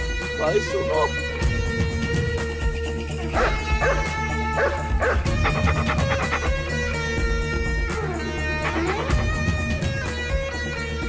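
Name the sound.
dog barking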